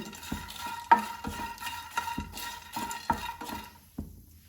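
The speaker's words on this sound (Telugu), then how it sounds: "నేను రొయ్యల్ని వేయించుకోవాలి. వేయించుకున్నాక కడుక్కోవాలన్నమాట. మంచి త్వరగా వేయించుకొని" Dried prawns frying in a pan while being stirred, with repeated scraping and clinking strokes of a utensil over a soft crackling sizzle, close by, ending in a quieter tail, no voices.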